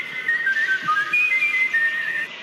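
A single person whistles a melody, a clear run of sustained and sliding notes held steadily with no talking.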